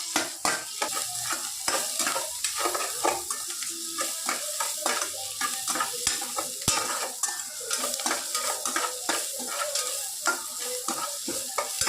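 Onions sautéing in hot oil with curry leaves and green chillies, an even sizzle broken by a steady run of close, rhythmic spatula scrapes and stirs against the pan that lasts the whole stretch.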